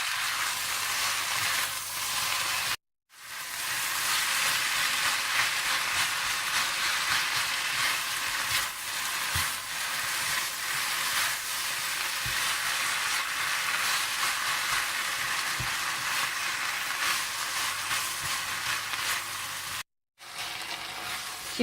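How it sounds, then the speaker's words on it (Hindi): Beef stir-frying with capsicum and green onions in a hot pan, a continuous close sizzle with occasional stirring clicks and two brief silent gaps, no talking. "अच्छी तरह से मिला लें और थोड़ा सा और भून लें।"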